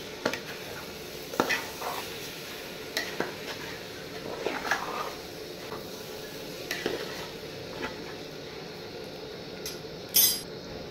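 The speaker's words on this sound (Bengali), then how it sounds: "এবার চালটা আর একটু আমি ফ্রাই করে নেব।" Gobindobhog rice frying and stirred in a pan, an ongoing low sizzle broken by irregular scrapes and light clicks of the spatula against the pan, with a brighter metallic knock near the end.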